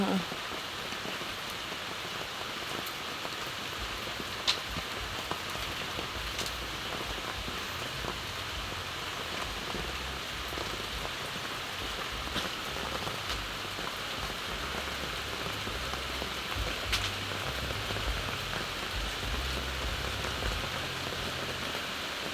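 A long stretch of steady, heavy rainfall, a constant broadband patter on surfaces, with an occasional faint knock in the background.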